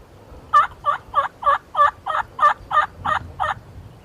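A wild turkey gobbles in a rapid run of about ten loud, evenly spaced calls, close and clear over a quiet outdoor background, during a public-land bowhunt.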